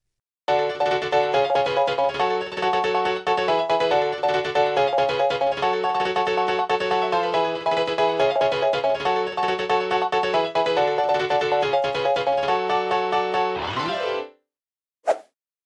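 Layered acoustic and electric piano parts of an FL Studio J-pop track play steadily and brightly with busy chords and a rhythmic low line, cutting off near the end before one short closing hit.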